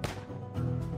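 Gunshots in the Wild West Z video game, a sharp crack at the start, a softer pop in the middle and another crack at the very end, each short and close.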